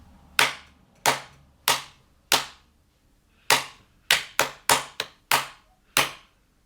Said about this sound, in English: And then after that, you would then clap it back to me.